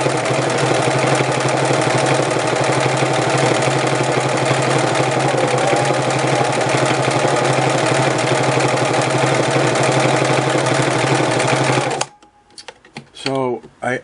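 A Singer Model 353 Genie sewing machine stitches a close zigzag on vinyl, making a loud, steady mechanical whirr for about twelve seconds that stops abruptly, followed by faint clicks and handling noises.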